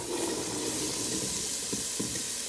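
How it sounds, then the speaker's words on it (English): Water pours steadily into red chili for enchilada sauce, a continuous close splashing rush with a faint sizzle underneath, no voices. "I'm going to get some water right here and pour in the red chili"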